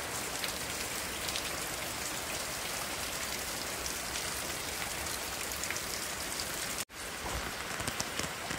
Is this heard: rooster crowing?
no